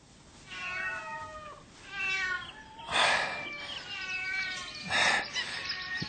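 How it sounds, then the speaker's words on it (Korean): A cat meows several times in a radio drama sound effect, with four or five drawn-out, rising-and-falling cries spaced about a second apart, the later ones louder and harsher, with no talking. "어디선가 고양이 울음소리가 들려왔다."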